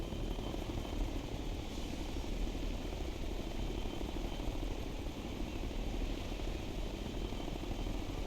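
A helicopter flies in the video game Tom Clancy's Ghost Recon Future Soldier, with a steady, dense rotor and engine roar holding loud and constant throughout, no talk over it.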